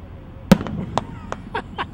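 Fourth of July fireworks crack overhead in a sharp series of pops. One loud bang leads off, and several fainter bursts follow over a couple of seconds.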